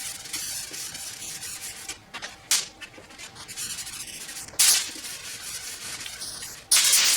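Sandpaper rubbing back and forth over car primer with 320 grit, a steady close scratchy hiss broken by a few louder bursts of spraying or brisk strokes.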